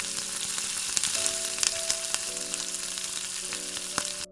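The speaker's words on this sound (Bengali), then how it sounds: "আঁচটা কিন্তু জোরে রেখেই ভাজবে, নাহলে মাংসের জলটা বেরিয়ে গেলে মাংসটা ভালোভাবে ভাজা হবে না।" Chicken pieces fry in oil over high heat for chicken kosha, with a loud continuous close sizzle, some faint spatters, and a steady hum in the background.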